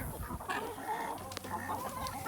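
Chickens cluck and squawk nearby, several birds overlapping in irregular bursts over soft background noise.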